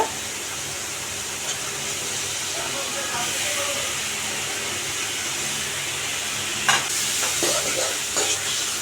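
Chopped capsicum and tomato fry and hiss in a pan while being stirred, with a steady sizzle and a few sharper scraping clatters near the end; no one speaks.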